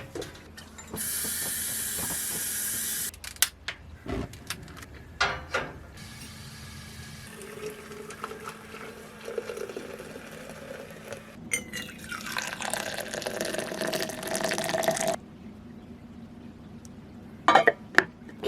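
A coffee machine hisses and gurgles with water in two separate bursts of steady steam, each lasting a few seconds, amid faint clicks and quiet handling noises in a home.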